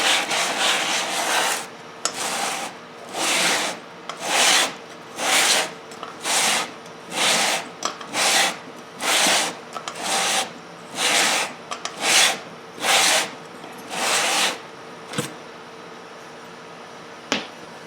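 Cylinder head from a 1971 Honda CB175 being hand-sanded flat with wet sandpaper, giving about a dozen evenly spaced scraping strokes, close and distinct, with short gaps between passes and a quiet tail.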